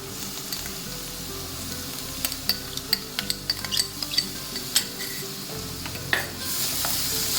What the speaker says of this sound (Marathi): लसूण थोडा 2 मिनिटं परतूया आपण.